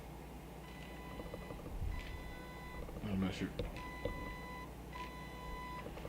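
A Neewer TT850 flash adjusts its zoom head with a faint, brief mechanical whir and small electronic beeps, heard close but quiet, while a person speaks briefly.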